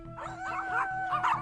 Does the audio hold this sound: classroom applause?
no